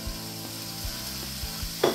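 A pound of hamburger meat frying in a hot pot for homemade spaghetti, giving a steady broadband sizzle with a few soft thumps and stirring knocks throughout.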